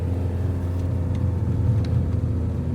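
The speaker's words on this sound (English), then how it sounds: "we've been going up for a very long time and I haven't made out of second gear yet" A car towing a small camper labours up a long mountain climb in second gear, giving a steady, loud low engine drone and road rumble with no talk.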